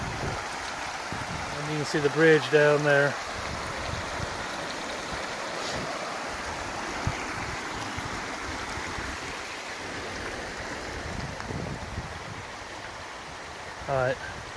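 Creek water flowing out of the Walls of Jericho makes a steady rushing wash with some wind noise, while a hiker talks briefly near the start.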